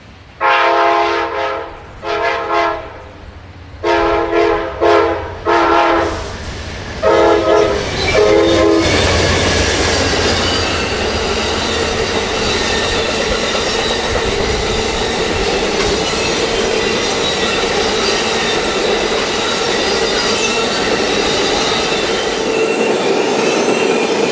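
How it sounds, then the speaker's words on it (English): An Amtrak Coast Starlight passenger train passing a lumber mill on entering Eugene sounds several long loud horn blasts, then roars past close by with rumbling wheels and clatter that continues steadily to the end. "The Coast Starlight passes by a lumber mill as it enters the college town of Eugene"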